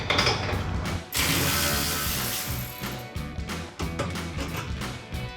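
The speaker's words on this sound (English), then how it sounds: "deep well socket with electric ratchet just to speed things up" Electric ratchet fitted with a deep well socket spins off a rear shock bolt on a Ford F-150 during a Bilstein B6 4600 install: a loud, steady mechanical whir with clicking gear texture and short stops and restarts.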